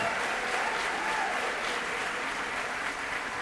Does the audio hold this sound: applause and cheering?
yes